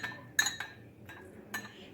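A spoon clinks against a cup while stirring honey into qehwa, giving three soft separate clinks spread over a couple of seconds in a quiet room.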